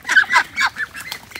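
Ducks raised in a pomelo orchard to eat snails give several close, loud honking quacks in quick succession, with brief pauses between calls.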